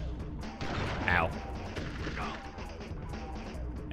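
Gunfire in the Army Men: Sarge's Heroes video game, a few dull booming shots with crackling rumble under steady game background noise and a player's voice.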